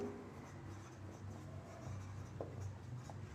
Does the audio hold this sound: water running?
no